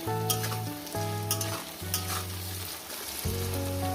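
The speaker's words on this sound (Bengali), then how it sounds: "পেঁয়াজটাকে সুন্দর করে আমি ভেজে নেবো" Onions salted and frying in a pan for a poppy-seed chicken dish give a steady close sizzle with periodic stirring scrapes, while a low tonal hum rises and falls underneath.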